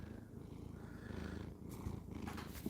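A pet cat purrs close by in a home, a low continuous rumble that swells and eases with each breath, joined near the end by faint brushing handling noises.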